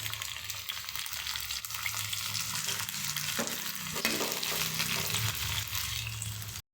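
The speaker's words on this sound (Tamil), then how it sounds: "நம்ம கட் பண்ணி வச்சுருக்கிறதுல வெஜிடபிள்ஸ் எல்லாம் சேர்த்துக்கலாம்" Cut vegetables go into a pan of oil with popped mustard seeds, onion and curry leaves for sambar, giving a loud, continuous close sizzle with stirring scrapes throughout, no talking.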